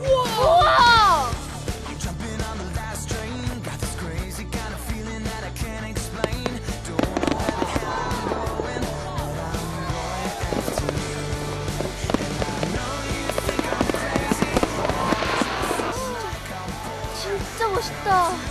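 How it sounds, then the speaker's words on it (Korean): Fireworks burst and crackle in a children's science programme, with popping and whistling bangs spread across the scene over music, and people talk and exclaim throughout. "불꽃놀이!"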